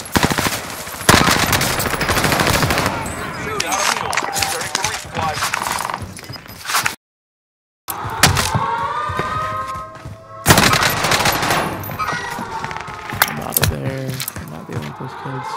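Call of Duty Warzone gunfire from a C58 rifle sounds in loud rapid automatic bursts with sharp cracks and thuds, broken by a brief silent gap, while a voice talks over it.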